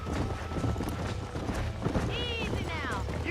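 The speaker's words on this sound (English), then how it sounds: "There's the horses!" Horses gallop with rapid clip-clop hoofbeats in the Red Dead Redemption video game, a whinny rising near the end, while voices shout over the action.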